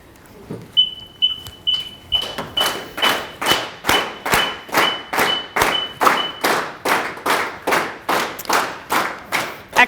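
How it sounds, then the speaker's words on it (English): An audience claps in unison along with a high electronic metronome beep, roughly two claps a second. The beeps drop out partway and the group keeps clapping steadily on its own. "once the beeping goes away, I want you to keep clapping for, say, 4 or 5 claps, and then stop"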